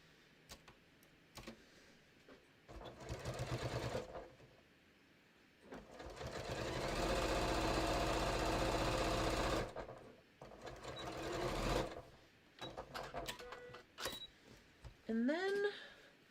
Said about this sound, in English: I'm going to sew this, all these layers together